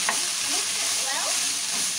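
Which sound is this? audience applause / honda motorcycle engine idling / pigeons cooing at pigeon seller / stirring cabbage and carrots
stirring cabbage and carrots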